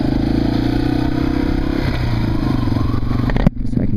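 Motorcycle engine revving hard during a stand-up wheelie and shifting into second gear, a loud, close buzzing drone that changes pitch at the shift, ending with a brief clack and a sudden drop in sound.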